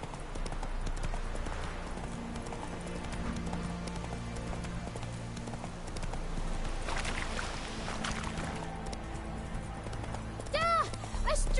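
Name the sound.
horse galloping in The Witcher video game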